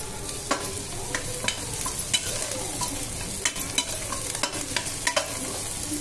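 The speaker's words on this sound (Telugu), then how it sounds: "అల్లం వెల్లుల్లి పేస్ట్ పచ్చి వాసన పోయేంత వరకు వేయించుకుందాం." Ginger garlic paste frying in a pan for tomato pulav, a dense steady sizzle broken by frequent sharp scrapes and taps of a spoon as it is stirred.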